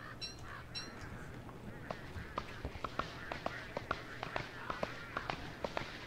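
Honking, goose-like calls of penguins in the video game Don't Starve Together, a scattered run of short repeated squawks over steady game ambience, with a voice talking at the start.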